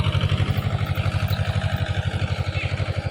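A tractor engine idles nearby on a farm where it has arrived to plough a cotton field, a loud, even, rapid chugging throb that continues without a break.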